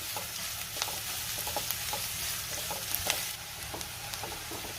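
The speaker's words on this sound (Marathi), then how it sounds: "कांदा आपल्याला 2 ते 3 मिनिटं व्यवस्थित परतून घ्यायचा आहे" Onion with green chilli sautéing in a hot pan for masala egg fry, a steady close sizzle broken by a run of spatula scrapes and clicks, no voices.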